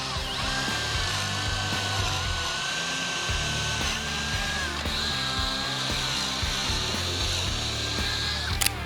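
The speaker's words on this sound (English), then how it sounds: "those 2 pocket holes that we just drilled" A power drill bores pocket holes into wood for an outdoor bench build, with a continuous whirring drive and a higher whine rising partway through. Small mechanical clicks sit under it, close and steady throughout.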